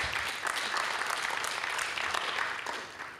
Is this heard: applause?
yes